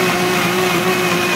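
A loud, steady blender motor whirs and grinds continuously without a break, with no talking over it.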